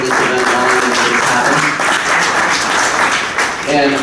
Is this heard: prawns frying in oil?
no